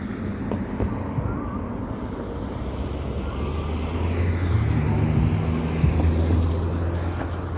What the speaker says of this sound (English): Get off of that heavy traffic.